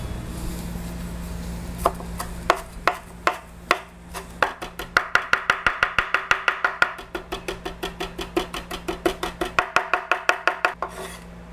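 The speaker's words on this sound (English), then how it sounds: "We're gonna chop away" Knife chopping fresh chives, parsley, cilantro and mint on a board for garlic sauce: a steady run of crisp, close thuds that speed into fast rhythmic chopping, with short pauses, no talk.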